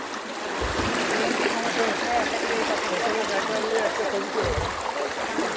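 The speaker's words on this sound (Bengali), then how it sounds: "তো প্রচুর স্রোত" A strong stream current rushes over bare feet at Debotakhum in Bandarban, a close, loud, continuous flow of churning water with voices mixed in.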